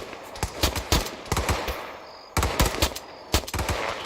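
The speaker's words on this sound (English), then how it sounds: "we are still taking fire from the base of the hill" Gunfire in the Arma 3 military shooter, crisp close shots and short machine-gun bursts cracking in an irregular rhythm over a background of more distant firing.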